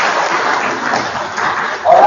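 A crowd at an International Yoga Day gathering claps in a loud, dense, continuous burst, slightly muffled and steady, swelling a little louder at the very end.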